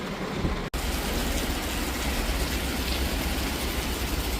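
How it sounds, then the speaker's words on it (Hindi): A dense, steady wash of heavy rain in Manali fills the air, preceded by a brief cut-out near the start. "बहुत तेज़ बारिश हो रही है"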